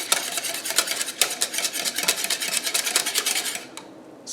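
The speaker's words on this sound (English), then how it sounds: "So I'm going to stir that in there." A spoon or whisk scrapes a bowl in quick, rhythmic strokes as white wine is stirred into a steak marinade. The scraping is close and busy, then eases off near the end.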